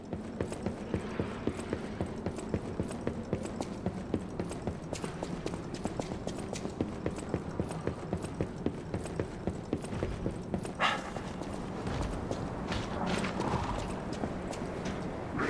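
Heavy, evenly paced thudding footsteps from a large creature in the game Lies of P, a continuous rhythmic stomping that stays fairly quiet and distant under low game ambience, with no talk.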